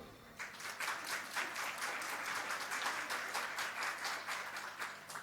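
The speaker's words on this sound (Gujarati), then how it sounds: "108 વખતની થોડી આવી તાળી હોય." An audience at a religious discourse applauds two women pilgrims with a continuous patter of many clapping hands, soft and somewhat distant, holding steady for the whole stretch.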